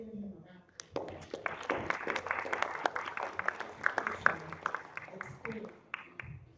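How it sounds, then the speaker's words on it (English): Audience applause at a lecture after a host is thanked, beginning about a second in as a burst of many hands clapping, moderately loud and uneven, with a voice briefly audible beneath. "Let's just give him a round of applause."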